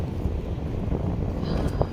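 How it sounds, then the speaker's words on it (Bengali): Strong wind buffets the microphone near the beach at Puri, a steady low roar with gusty fluctuations and no speech, close and continuous. "কি সুন্দর হাওয়া আসছে এখান থেকে"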